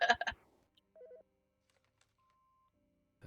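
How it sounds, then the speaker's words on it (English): Telephone in a horror video game gives short electronic dial-tone beeps, then a faint click and a thin steady tone, all quiet and isolated with near silence between them. "The fucking phone."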